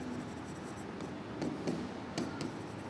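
A pen scratches across paper in short strokes and taps, close and quiet, as a figure is written out in an accounts ledger.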